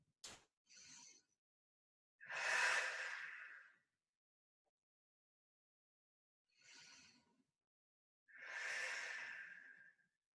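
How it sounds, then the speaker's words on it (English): Two deep breaths taken in a child's pose during a fitness class, each a short inhale followed by a long, audible exhale, close and clear against near silence. "Take 2 deep breaths."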